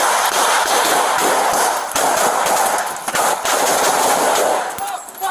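Loud, dense machine gun fire rattles almost continuously in rapid bursts during a tactical entry, with a brief dip in intensity near the end.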